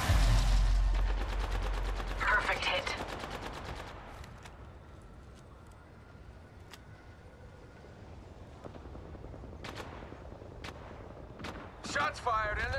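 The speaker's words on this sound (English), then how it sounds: "Shots fired, and they're hitting me." Gunfire in the video game Apex Legends, a loud burst of rapid shots at the start that fades into quieter scattered distant shots, with in-game voice lines heard over it.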